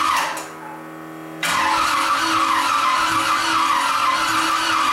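A big block engine with a gear drive, unfed for 14 years, catches after a brief cranking whine and settles into a loud, steady, close roar that fills the rest of the clip.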